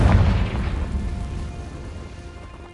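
A single deep, booming explosion from the Confringo spell in a Harry Potter video game hits hard at the start, then rumbles and fades out over a few seconds.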